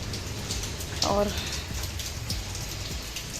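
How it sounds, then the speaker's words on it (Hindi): Steady rain falls outdoors near potted mango saplings, a constant soft hiss of drops on surfaces, with someone speaking briefly over it. "आज अच्छी खासी बारिश हो गई है"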